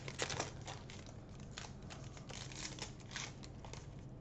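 Crinkling and crackling of a Double Masters booster pack wrapper being torn open, with steady close crinkles running throughout at moderate level, alone without speech.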